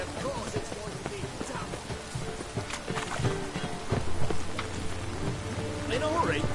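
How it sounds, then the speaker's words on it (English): Rain falling in the video game The Witcher 3: Hearts of Stone, a faint steady patter with scattered hoof clops, distant rumbles and game voices talking over it. "It's raining"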